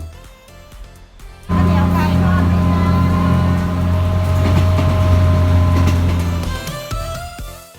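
A passenger train runs on its tracks, heard from on board: after a quieter opening a loud, steady rumble with a low droning hum swells in, holds for several seconds, then eases off.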